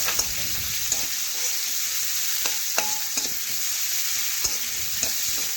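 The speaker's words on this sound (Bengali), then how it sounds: "এখন নাড়াচাড়া করে পেঁয়াজ একটু ভেজে নিচ্ছি" Chopped large onion frying in a pan while being stirred, for a broccoli dish: constant close sizzle with sharp intermittent clicks and scrapes of a spatula against the pan, no voices.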